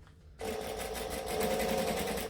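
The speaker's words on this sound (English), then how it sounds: "I'm just going to stitch along that bottom edge" A sewing machine stitches along the bottom edge of a fabric make-up brush or pencil case, starting after a brief pause and running as a steady, fast, close whir for about two seconds, with no talking.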